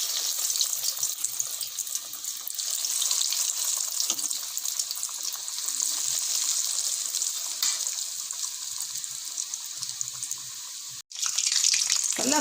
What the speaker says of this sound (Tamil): ஸ்டவ்வை மீடியம் ஃப்ளேமில் வச்சு ஃப்ரை பண்ணிக்கலாம்.